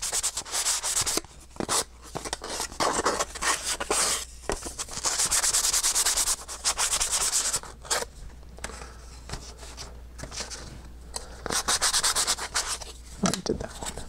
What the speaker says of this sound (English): I take a piece of sandpaper and I just take off the roughness